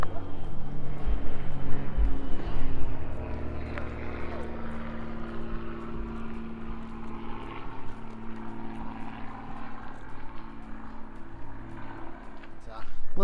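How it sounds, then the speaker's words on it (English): A propeller airplane drones overhead at Lake Louisa State Park, loud at first and then a steady lower rumble with faint wind and movement noise. "We also got to see some planes flying over."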